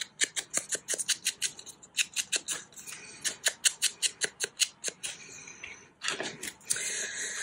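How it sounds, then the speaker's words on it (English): Scissors snip paper for a craft project, a quick run of close, crisp, regular cuts that slows into a few last snips and some handling noise, with no speech. "I'm going to cut off the edge there and there"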